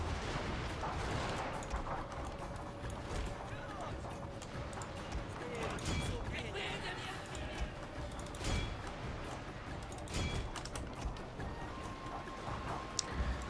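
Artillery pieces fire during a battle in Total War: Fall of the Samurai near the Emperor's city, giving scattered thumping cannon shots amid a dense, continuous battle clamor of gunfire and movement, heard under spoken commentary.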